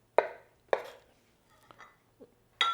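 A knife dices corned beef on a board, with three sharp chops in the first second followed by a few softer, scattered taps, close and fairly quiet.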